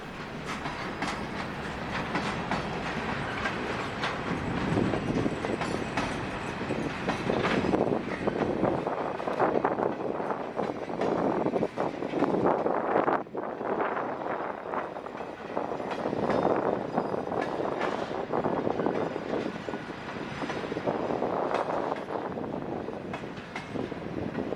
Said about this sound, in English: The train is now heading to Willimantic, a few miles south of here